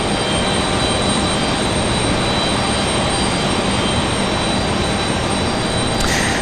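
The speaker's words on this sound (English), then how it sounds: "2546 with that A319 departing." An Airbus A319 jet departing Raleigh-Durham airport, a dense, even engine roar that holds steady and fairly distant throughout, with a short sharp noise burst right at the end and no voices.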